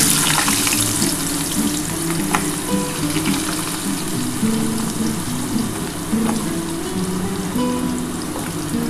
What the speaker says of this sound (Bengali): আগে আমি আলুটা ভেজে নেবো